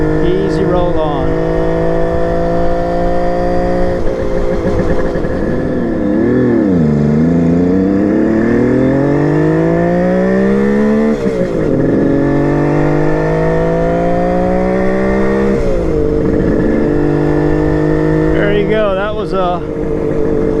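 A carbureted motorcycle engine revving smoothly at about 3,700 RPM with steady roll-on throttle, its pitch rising and dipping through several gentle sweeps, loud and close throughout.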